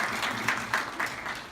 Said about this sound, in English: So let's all give ourselves a round of applause for being here today.